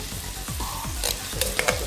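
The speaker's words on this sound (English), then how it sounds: "Fry slow fire, onion get pink" Onions, a whole head of garlic and curry leaves fry with cumin over a low flame in a pan, producing a close, constant sizzle broken by quick stirring scrapes and clinks.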